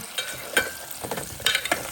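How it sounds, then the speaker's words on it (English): Potatoes and carrots sizzle in a rice pot on the cook setting, a close crackling hiss with scattered brief pops and stirring clatter, no talking. "You hear that sizzle?"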